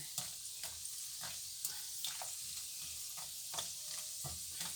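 Steady sizzling of food frying in hot oil, with occasional sharp pops and crackles and light stirring clicks, close up and continuous.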